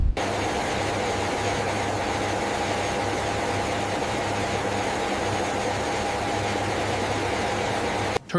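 A US Air Force C-17 transport aircraft drones with a steady engine hum during a tactical airdrop flight. A dense, continuous roar with a low tonal rumble stays even and loud throughout, with no voices.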